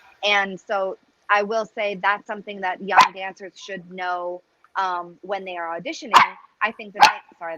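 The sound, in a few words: pet dog barking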